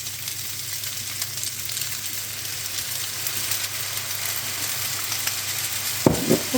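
Shrimp filling with soy sauce sizzles steadily in a hot frying pan as it is stirred, a continuous close hiss with a spatula scrape and clatter at the very end.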